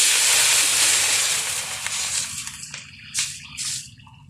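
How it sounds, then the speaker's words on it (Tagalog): Water poured into a pot of cooking pork makes a loud, close hissing rush that fades over a few seconds into scattered drips and splashes. "Ilagyan natin ng tubig."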